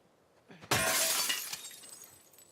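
Glass panes shatter loudly in The Last of Us Part II after a tripwire is triggered, a sharp crash followed by a long tinkling cascade of falling shards that gradually fades.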